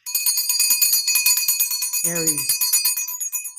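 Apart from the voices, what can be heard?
ringing a bell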